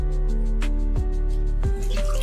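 Water drips and splashes while peeled garlic cloves are rinsed in a kitchen, with a few distinct wet plops and squishes over a steady low background hum.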